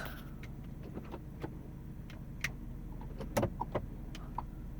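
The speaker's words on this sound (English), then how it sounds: "I'm sorry, I'm hitting the lock button." Door lock actuators on a 1997 Mercedes-Benz S320 triggered by the lock button, a few sharp close clicks and clunks against a quiet cabin, clustered mostly in the second half.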